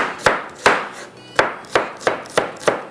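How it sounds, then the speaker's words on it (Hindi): Onions chopped with a knife on a board for Amritsari biryani, seven sharp, close knocks in an uneven rhythm, loud and alone without talk. "प्याज को हम अच्छे से कटिंग कर लेते हैं।"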